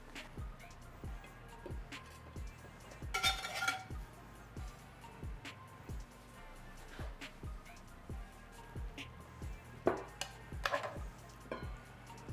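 Tableware clinking as air-fried coconut tofu and cast-iron fried rice are plated in a home kitchen: scattered light taps and clinks of dishes and cutlery, a few brighter clatters, fairly close but quiet.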